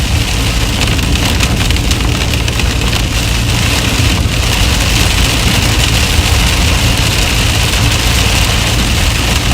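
Heavy rain drums hard and steadily on a storm-chasing vehicle in Michigan, a loud, dense, continuous patter over a faint low engine idle, with no talking.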